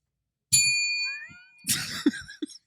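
A bell is struck with a bright metallic ding whose ringing tones sustain and fade, then a second jangling clatter follows as it falls to the floor, with a couple of dull thumps at the end.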